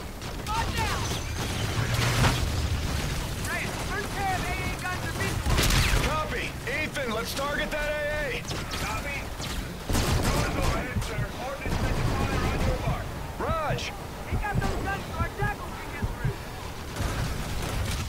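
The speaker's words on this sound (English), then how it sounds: "AA guns are engaging jackals." Anti-aircraft guns firing in Call of Duty Infinite Warfare: steady rapid bursts and booms under busy game effects and talking voices.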